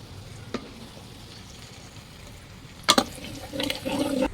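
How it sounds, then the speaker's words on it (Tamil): Garlic sautés in a pan over a wood-fire stove, a faint soft sizzle with a few sharp stirring clatters near the end, close by and without speech. "பூண்டு நல்லா வதங்கிடுச்சு"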